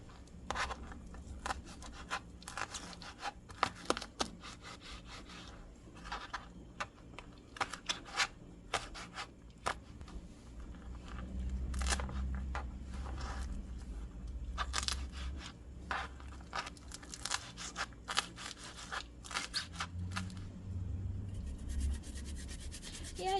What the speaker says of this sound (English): I'm going to grate my garlic just very, very fine